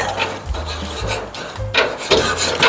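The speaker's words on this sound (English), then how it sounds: "I give it a little scrape before I start the grill, and then a scrape once it's heated up too." Scraping the grates of a gas grill clean with a metal scraper: several harsh, rasping back-and-forth strokes, loud and close, with brief pauses between them.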